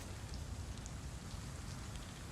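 Steady, dense rain from the Vampyr video game hisses evenly throughout, loud and unbroken with no voices.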